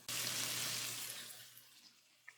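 About 1.5 ounces of water is poured into a pan of conch simmering in Creole sauce, giving a brief rushing splash that starts abruptly and fades over two seconds, faint and close.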